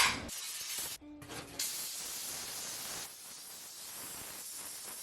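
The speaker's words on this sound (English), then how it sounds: "Looking at my stove and it's dirty, so I'm gonna steam clean it." Steam cleaner on a dirty kitchen stove: loud, steady hissing spray of steam that runs nearly throughout, with a short break and then continuing more quietly, nobody speaking.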